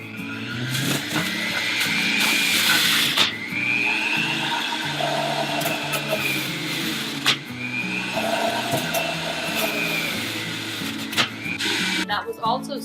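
A Breville Juice Fountain Cold juicer running on high while carrots are fed through it, giving a loud, steady motorized whir and grinding with surges and crunchy bursts throughout, with no talking over it.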